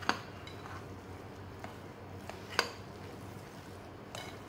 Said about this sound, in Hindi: चम्मच से मिला लेंगे अच्छे से